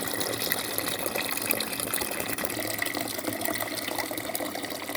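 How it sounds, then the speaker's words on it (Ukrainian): Boiling water poured from a glass jar during apricot preserve canning: a continuous, fairly loud gushing splash lasting several seconds, with no talking. "І отак зливаю і другу баночку туди."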